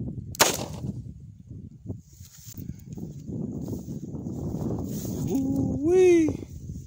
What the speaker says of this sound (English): Let's see what this 357 Magnum can do.